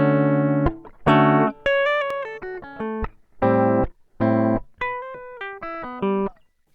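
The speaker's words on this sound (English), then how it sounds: "So this is a completely dry guitar." Electric guitar plays chords and short melodic phrases, clean and dry with no echo or reverb, notes stopping abruptly between strums.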